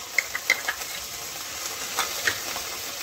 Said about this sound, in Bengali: ভালোভাবে আদা রসুনটা ভাজা হয়ে গেছে